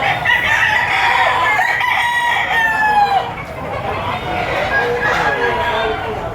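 A rooster crows loudly and close by in long drawn-out calls at an auction market in Lipa, Batangas, with clucking and other fowl around it and a faint voice underneath.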